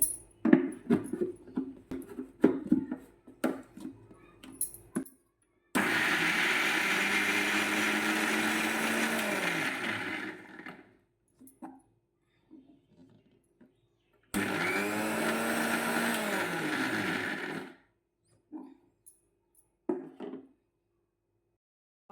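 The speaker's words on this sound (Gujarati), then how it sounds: "હવે આપણે વટાણાને મિક્સરમાં ક્રશ કરી લેવાના છે" A kitchen mixer grinder crushing green peas runs in two loud, steady whirring bursts of several seconds each, separated by silence, with clattering handling noises before and after.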